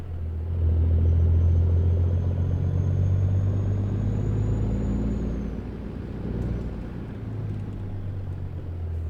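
A truck driving in American Truck Simulator, a low steady engine rumble with a faint high whine above it, holding fairly constant and easing slightly toward the end.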